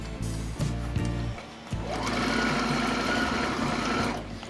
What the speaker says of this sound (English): we're stitching directly over the double stitch that's there already